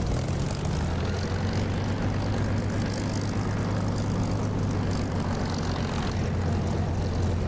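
A warbird propeller engine drones steadily and loudly in the DCS flight simulator game, a deep constant hum with a rough roar on top and no voices.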